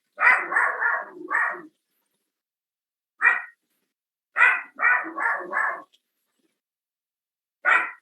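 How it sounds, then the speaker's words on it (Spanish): A dog barks in quick clusters of sharp, fairly close yelps, several in a row, then single barks separated by silent gaps, with whiny, crying overtones and no one talking. "por el ruido del perro, pégale para que deje de llorar"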